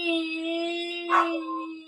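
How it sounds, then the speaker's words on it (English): A dog cries indoors in a faint, thin whimper that rises briefly in the middle over a steady background hum, with no talking. "It's either the dog crying or Elise is crying."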